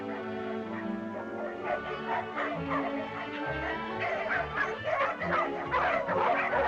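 Several dogs yip, whimper and bark in a 1938 film scene, eager little cries close together over a tonal background.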